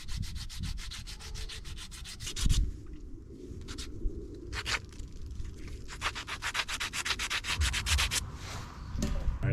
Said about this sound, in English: We finished sanding the handle.